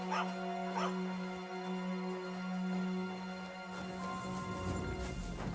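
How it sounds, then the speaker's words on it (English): A couple of short, faint dog barks early on over a steady electronic hum, with a rougher burst of noise near the end, from the video game Kingdom Come: Deliverance II. "Get out of here, mutt! No one wants to hear your barking."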